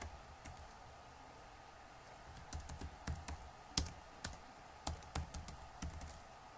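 Someone types on a computer keyboard, sparse clicking keystrokes that grow into a quicker irregular burst, quiet and close in an otherwise still room.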